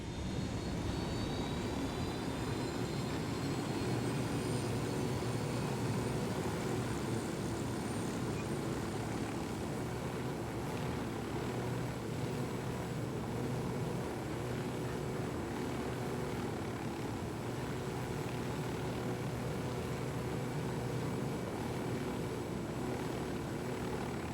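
A piloted aircraft in Ghost Recon Wildlands drones on with a steady engine roar and rotor hum, constant and moderately loud, with faint high whines above the low churning noise.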